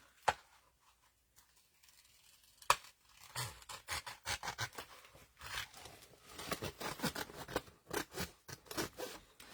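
Scissors cutting a paper folio, close and quiet: two isolated snips, then a run of quick, rhythmic crisp cuts and rustles as the blades work along the edge.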